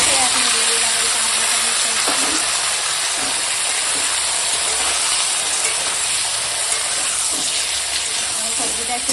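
Vegetables fry in a pan with a steady, close, broadband hiss and soft crackle that holds at an even level throughout, with faint scraping now and then.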